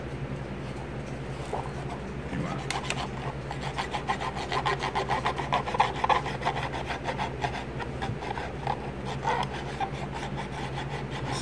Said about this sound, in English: just scrubbing it back and forth with that wet Q-tip